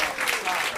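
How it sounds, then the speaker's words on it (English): A comedy club audience at a New York roast battle breaks into dense, steady applause, a loud wash of clapping that fills the whole brief moment without letting up. "Give him another round of applause,"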